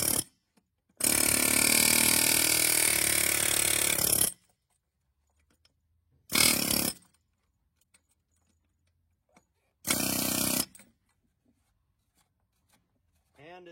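A power tool bit spins a nut loose in three bursts: one long, loud zip of about three seconds, then two short ones, with quiet pauses between.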